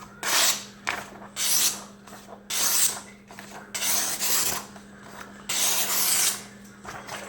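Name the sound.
sharpening a Kershaw Leek knife on Smith's Tri-Hone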